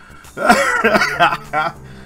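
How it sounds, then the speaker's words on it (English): A person clears their throat and coughs in a short harsh burst, close and loud, followed by a brief second hack. "Oh, hack and cough."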